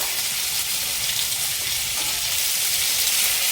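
Eggplant slices fry in a small amount of oil with a steady, dense sizzle. The hiss is close and even throughout, with no voices.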